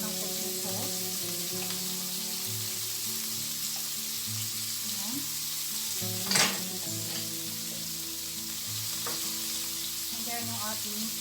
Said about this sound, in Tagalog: igisa lang natin mabuti yung ating pork and chef hanggang sa maging golden brown